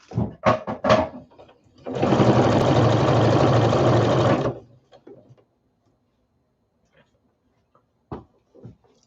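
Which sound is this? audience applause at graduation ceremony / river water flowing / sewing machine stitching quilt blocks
sewing machine stitching quilt blocks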